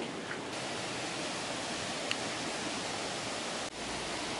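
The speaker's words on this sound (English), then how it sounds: "the water flows from here on underground between the two buildings here to the turbine building" Steady, full rush of water pours through the automatic debris catcher at a micro hydro intake, a constant close wash of flow with no pauses.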